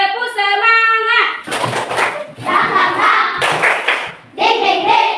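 A classroom group claps a rhythmic spirit clap in quick patterned bursts, loud and close, alternating with sung chanting voices.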